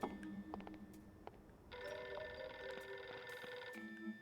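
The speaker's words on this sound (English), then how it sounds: "I hear a phone." Phone ringing inside the spy video game No One Lives Forever, repeated electronic trill bursts with a long sustained ring in the middle, moderately loud against quiet game ambience, no voices.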